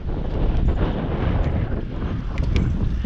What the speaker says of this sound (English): there's definitely more wind